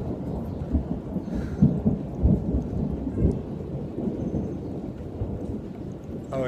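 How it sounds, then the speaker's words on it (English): A Kansas evening thunderstorm, with steady heavy rain and low rumbling rolls of thunder swelling and fading several times, close and fairly loud, with no voices. "Lots and lots of thunderstorms."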